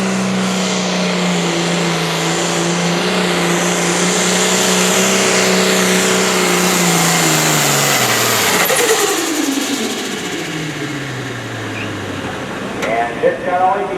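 A John Deere 4250 tractor roars through a run at a county fair tractor pull, its loud, strained engine holding a steady pitch and then dropping away as it slows, with an announcer talking over it.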